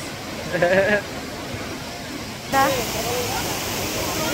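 Waterfall at a swimming spot in Bolinao, Pangasinan, a steady broadband rush of falling water that grows louder partway through, with voices and brief calls over it.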